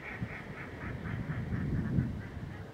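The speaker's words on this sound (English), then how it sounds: "with accompanying ducks in the background on the Manor Lake" Ducks on Manor Lake near Hever, England, quack repeatedly in a steady series of nasal calls, somewhat distant, over a low outdoor rumble with no talking.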